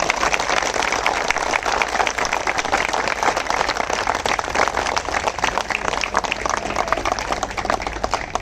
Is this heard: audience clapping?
yes